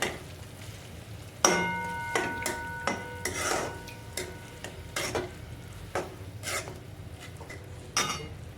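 Ginger garlic paste stirred and fried in a pan over a medium gas flame while making Indian-style masala macaroni, with scraping spoon strokes, clinks against the metal and a low sizzle beneath, close and fairly quiet.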